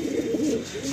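Soft rolling coos from an Andhra pigeon pair, male and female, kept at a pigeon loft, sound up close in one short continuous burst.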